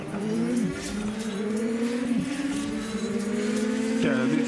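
A Renault Megane Trophy race car roars in Assetto Corsa. The engine drone is loud and sustained, with pitch drops at gear shifts and a brief tire squeal.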